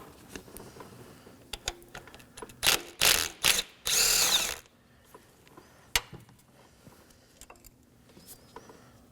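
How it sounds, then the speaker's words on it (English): A 10mm ignition coil bolt on a 2018-2024 Chevrolet Equinox 1.5L four-cylinder is removed with a power tool, short bursts of close, loud whirring around the middle, surrounded by scattered clicks and taps. "Now I'm going to go ahead and remove the 10mm bolt holding the ignition coil down."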